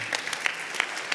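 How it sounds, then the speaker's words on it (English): Applause at a bar association's annual installation banquet, a thin, moderately distant patter of clapping with a few sharper individual claps standing out. "She's owed that round of applause."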